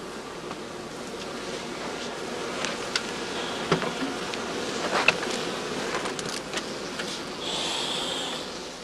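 Bees swarm around opened straw skep hives while the beekeeper works the combs, a dense steady buzz all around with occasional louder passes near the listener and faint taps and clicks.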